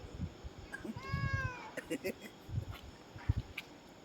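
A cat gives one clear drawn-out meow mid-clip, close by, with scattered rustling and handling noises around it and a person talking.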